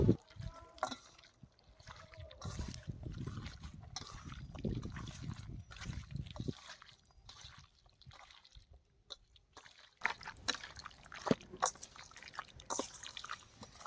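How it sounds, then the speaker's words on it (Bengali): Chicken pieces being worked by hand with salt, cumin powder, mustard oil and yogurt, giving faint wet squelching and dripping sounds that come and go at close range, soft and intermittent. "এখন আমরা ভালো করে মাখিয়ে নেব"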